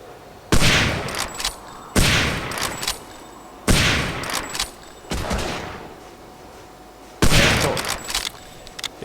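Heavy bursts of gunfire in the war game Hidden & Dangerous 2, four loud close volleys each cracking sharply and trailing off into rumbling echoes, separated by brief quieter gaps.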